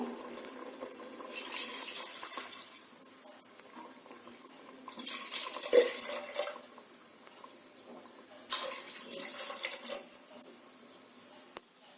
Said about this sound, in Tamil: இப்ப இது கூட 4 கப் அளவுக்கு தண்ணி சேர்த்துடலாம்.